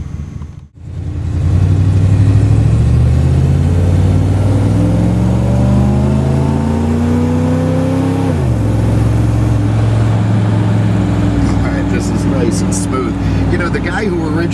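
A C2 Corvette engine starts with a brief blip, then settles into a loud, steady drone as the car pulls away, rising through the revs and shifting once. Wind buffets the microphone and faint clatter joins near the end.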